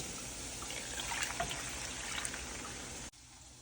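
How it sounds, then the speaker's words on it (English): Water poured into a skillet of butter-browned rice, a steady close hiss and trickle lasting about three seconds before stopping abruptly, with a quieter background continuing after. "go ahead and add your water."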